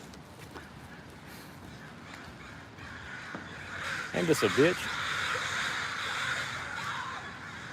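Crows caw overhead outdoors, a quick run of several harsh calls in the middle, loud and fairly near, while someone talks throughout.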